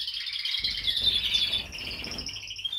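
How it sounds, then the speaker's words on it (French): Caged birds sing steadily after finishing their moult, a bright continuous twittering of high chirps and trills, fairly close and filling the whole stretch with no talking. "ça chante pas mal, hein, ça reprend le chant, c'est normal."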